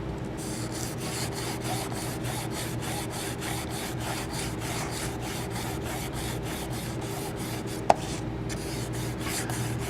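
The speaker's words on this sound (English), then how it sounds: "I'm going to tear off a single fold about 2 inches long, and I'm going to dry abrade the beam." Dry 320 grit silicon carbide paper rubbed against a composite beam gives a steady, close scratchy rasp in even repeated strokes, with one sharp tap near the end.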